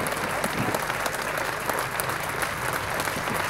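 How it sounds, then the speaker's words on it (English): Sustained applause from an outdoor crowd at the unveiling of the Jimmy Murphy statue outside the Stretford End at Old Trafford, a dense, steady wash of clapping that holds at a constant level throughout. "Come on, a nice round of applause, ladies and gentlemen"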